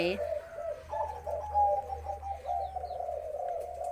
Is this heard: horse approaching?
no